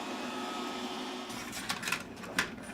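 A robot vacuum cleaner runs over a household rug with a steady whirring motor hum, joined midway by scraping, rattling bursts from the brushes working the fibers.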